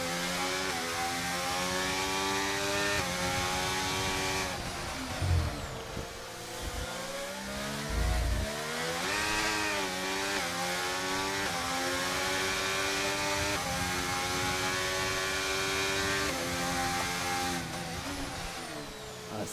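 Race cars in a historic racing video game league round at the Singapore circuit scream past with high, steadily revving engines, shifting pitch and overlapping continuously for a long stretch, loud and close without voices.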